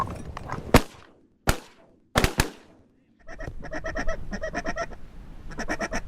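Ducks call during a hunt: a few sharp, loud bangs ring out and die away, then a steady run of repeated honking, quacking calls fills the rest, fairly close.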